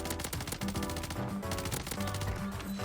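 Rapid automatic gunfire in the shooter video game Warzone, dense repeated cracks in quick bursts with a low rhythmic thud beneath, loud and close throughout.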